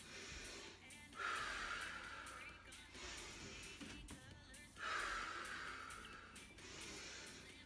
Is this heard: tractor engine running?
no